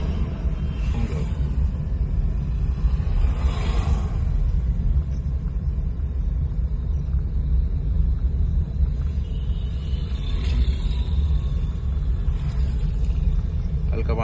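A training car's engine runs with a steady loud low rumble as it accelerates, with an instructor's voice speaking intermittently over it.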